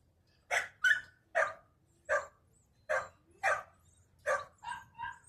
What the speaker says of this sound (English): As you can probably hear, we have a few dogs.